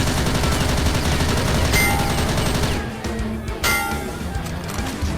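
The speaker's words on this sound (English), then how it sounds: "Amidst the chaos and gunfire, Tony Stark stood resolute in his new Iron Man suit" Dense battle gunfire from an audio drama, a steady wall of rapid shots and bursts with metallic clangs, loud throughout and easing slightly after a few seconds as the barrage thins.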